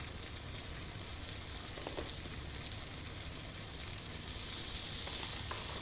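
Chopped chili and garlic sizzle steadily in a hot pan for a stir-fried jackfruit and anchovy dish, a close, continuous crackling hiss with no voices.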